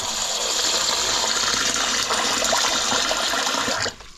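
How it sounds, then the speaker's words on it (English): Water gushes steadily over about 274 grams of rice to soak it for a donburi, a loud continuous pour that stops abruptly near the end. "Now what I'm gonna do first is I'm going to soak this in water."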